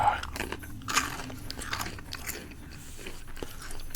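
Someone chews Fishy crackers close to the mic in a quiet room, with crisp crunches and bites repeating irregularly, some brief soft mouth noises between them and no talking.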